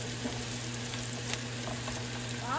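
Okra and Polish sausage frying in a pan, a steady close sizzle with faint stirring clicks and no talk.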